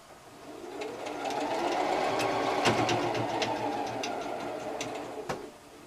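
A sewing machine stitches a mosaic quilt block, a steady close mechanical whir that ramps up, runs evenly for several seconds with light rhythmic clatter, then winds down, no voices.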